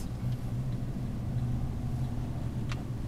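Steady low engine drone from a car interior while accelerating and shifting gears, fairly constant and moderately loud, with faint brief higher clicks; no talking.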